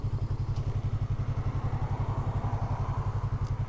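Motorcycle engine droning steadily and close up with a fast, even pulsing beat while riding, no voices over it.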